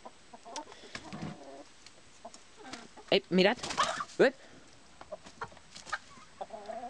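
Hens in a backyard coop squabble as a newly added hen settles in: scattered clucks and sharp squawks, a louder burst of agitated calls midway, with a person speaking briefly over them.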